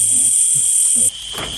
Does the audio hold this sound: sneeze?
no